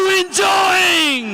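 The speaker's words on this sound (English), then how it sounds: "the crowd is cheering up for his home team" Crowd at a Yuva Kabaddi series match shouting and cheering for the home team, a loud, sustained roar of yells and whoops with a dip partway through, no clear talk over it.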